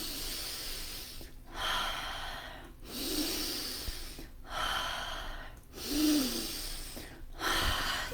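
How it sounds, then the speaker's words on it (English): Deep, rhythmic breathing during a yoga breathing exercise, with about five cycles of forceful inhales and exhales heard up close and alone, separated by short pauses. "Keep on breathing."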